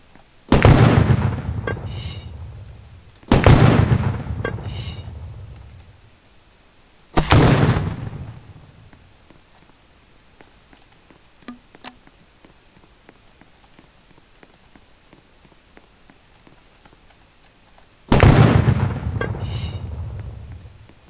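Several loud booming explosion blasts of robots being destroyed in a Roblox game, each decaying into rumble, with quiet gaps and faint clicks between them.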